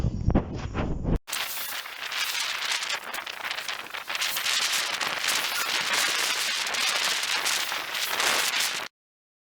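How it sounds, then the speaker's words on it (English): Wind picks up outdoors during a walk, a loud, steady rushing roar close to the microphone that follows a brief different sound at the start and runs unbroken until it cuts off. "You can hear the wind picking up."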